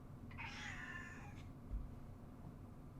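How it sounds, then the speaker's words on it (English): A house cat lets out one long, drawn-out meow indoors, wanting to be let outside, followed by a faint thump and quiet room tone. "I need to let this cat out."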